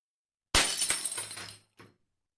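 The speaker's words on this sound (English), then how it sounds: "as your crystal shatters one more time" A crystal shatters as a sound effect: one sharp, loud crash of breaking glass that rings and trails off over about a second, then a brief smaller tinkle of falling shards, heard alone.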